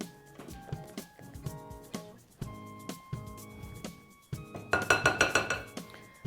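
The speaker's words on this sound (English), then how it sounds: "So we mix these ingredients together." Ingredients for apple mint raita being stirred together in a bowl, a run of rhythmic clinks and taps of a spoon against the dish, growing busier and brighter toward the end, close and with no talking.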